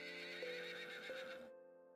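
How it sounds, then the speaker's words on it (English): A horse whinnies in a video game, a bright, drawn-out neigh with faint hoof clops beneath it, ending abruptly and leaving a thin lingering tone. "The sound of hooves come out of nowhere."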